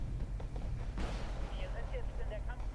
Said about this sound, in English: he's getting artillery by his own side